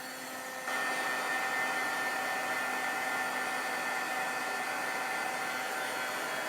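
Heat tool blowing hot air to dry paint on craft gnomes, starting with a click under a second in and then running as a steady, loud, close whoosh with a faint whine through to the end.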